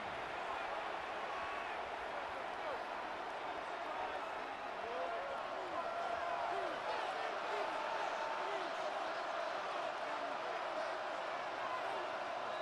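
A large crowd at a Chiefs versus Seahawks NFL preseason game sends up a steady, distant roar throughout, with faint voices mixed into the continuous wash.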